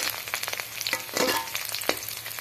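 Onion and green chilli sizzle in refined oil for a bhujiya, crackling bursts and spatters over a steady hiss, with stirring scrapes mixed in, close and moderately loud.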